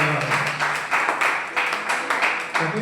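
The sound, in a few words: congregation applauding in church service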